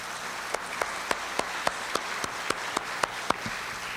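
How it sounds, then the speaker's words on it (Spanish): About a dozen evenly spaced claps in a slow, steady rhythm, fairly faint over a hissy background. "Le vamos a recibir con un aplauso"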